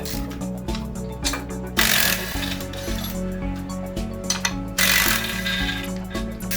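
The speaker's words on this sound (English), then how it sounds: "Sometimes the impact gun won't cut it. That's when the extendable ratchet and spanner earn their keep." An extendable ratchet works loose stubborn bolts on a Toyota differential, producing loud, close, rapid ratcheting clicks in bursts with brief louder pauses between strokes.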